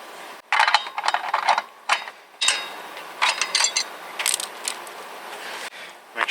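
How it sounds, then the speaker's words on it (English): A ratchet loosens the lug nuts on a car wheel during a brake job, giving bursts of rapid metallic clicking separated by short pauses, close and clear with no talk. "you loosen or remove the bolts"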